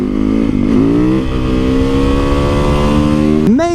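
A street legal supermoto motorcycle engine revs loud and close, climbing through gears with rising pitch, a brief dip, then a sharp throttle blip at the end.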